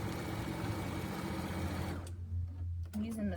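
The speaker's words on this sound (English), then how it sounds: "So I'm just quilting my next piece." A sewing machine quilts a fabric bowl cozy, whirring in a steady fast stitch for about two seconds before stopping, then a voice speaks briefly.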